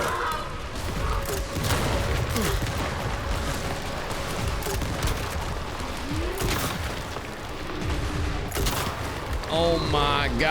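Gunfire in the action game Crimson Desert comes as dense, rapid bursts and booming shots in a chaotic fight, with people talking excitedly over it.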